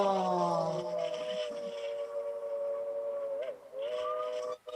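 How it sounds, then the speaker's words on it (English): Steam locomotive 493 sounds its Crosby three-chime whistle, a rich sustained multi-tone blast held for several seconds with a brief dip and swell, ringing out loud and clear. "the whistle that they use for All right, 311 listen. trains is a Crosby 3 chime."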